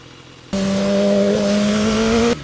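BMW S1000RR sport motorcycle being ridden, its engine holding a loud, steady, droning tone for about two seconds before cutting away, heard up close without any talk.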